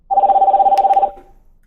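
A phone ringtone plays through a compact LED Bluetooth wireless speaker, a loud, steady pulsing electronic ring for about a second that then cuts off and fades briefly.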